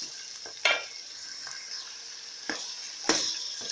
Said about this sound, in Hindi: चिकन को डाल के हम इसमें अच्छे तरीके से भून लेंगे।